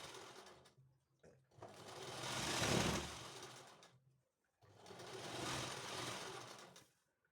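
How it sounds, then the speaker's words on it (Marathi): A sewing machine stitches a fabric cord set in two long runs, a fast steady whirring hum that rises and fades with a short pause between, fairly close and quiet. "डबल टीप टाकून घेऊयात."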